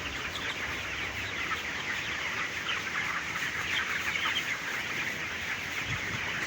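A flock of chickens clucks and murmurs steadily in a hot-weather poultry house under a tin roof, a dense overlapping chatter that stays even and moderately loud throughout, with no talking.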